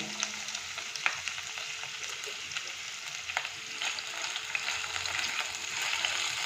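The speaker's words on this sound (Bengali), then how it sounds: "এবার আমি চিকেনের টুকরোগুলোকে ভেজে নেব।" Pieces of chicken fry with chopped onion and garlic in a wok, giving a continuous dense sizzle and crackle with an occasional stirring scrape. The sound is moderately close and nobody is talking.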